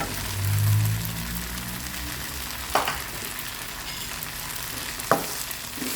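Vegetables and noodles stir-fry in a wok over medium heat, a continuous close crackling sizzle with two sharp clinks of a utensil against the pan, no talking.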